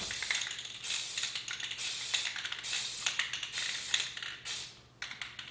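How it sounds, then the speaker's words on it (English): Short, light bursts of hissing aerosol spray paint, several quick passes in a row with brief pauses between, close and fairly soft, while making a blaster mark. "Okay, so I got my spray ready to go."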